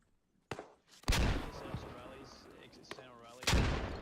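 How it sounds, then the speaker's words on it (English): Several grenades burst in a Squad-style military shooter match on the Kokan map, with sharp booms arriving in quick succession among gunfire and a short burst of radio-like chatter, all loud and close. "Here goes several nades."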